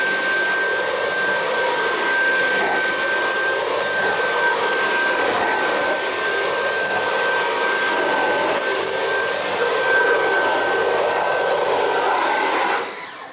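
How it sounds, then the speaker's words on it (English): A vacuum cleaner roars continuously and loudly as it is pushed in straight passes over a car floor mat, with a steady whine throughout that cuts off at the end. "because of the way that we've used a vacuum cleaner there"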